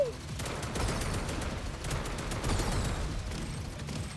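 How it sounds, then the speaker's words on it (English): Sustained rapid gunfire from an assault rifle in a video game shooter, dense overlapping bursts with a steady rattling rhythm, loud and continuous throughout. "this actually kind of feels more like assault rifle, like a modern shooter"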